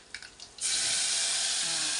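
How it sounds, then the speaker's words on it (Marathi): Water pouring into a pressure cooker: a faint clink and a few light knocks, then a sudden loud, steady rushing stream that runs to the end; no talking. "कुकरमध्ये पाणी टाक"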